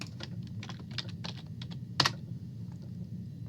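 Quick bursts of keystrokes on a computer keyboard, close and crisp, with one sharper louder key hit near the middle, alone without talk.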